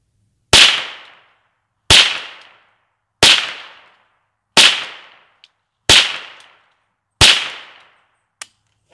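Six sharp, loud gunshots are fired into a carved pumpkin, evenly spaced about 1.3 seconds apart. Each crack decays quickly, and a faint click follows the last shot.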